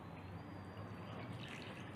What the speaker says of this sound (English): We need to dissolve this tamarind with some water,